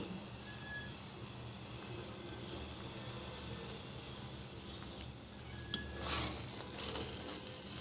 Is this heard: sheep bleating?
no